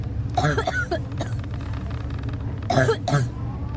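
A video game character coughs and clears their throat in a Ukrainian narrative game, with a few close, harsh bursts near the start and again later over a steady low ambient rumble.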